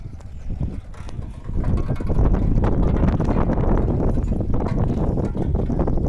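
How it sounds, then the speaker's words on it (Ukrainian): Strong wind in a vegetable garden buffets the microphone, a steady loud roar with gusts that build after the first second and keep rushing. "Дуже сильний вітер."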